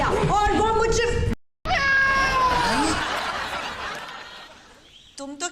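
A cat lets out several loud, close meows with drawn-out falling tones, one after another, mixed with chuckling and laughter.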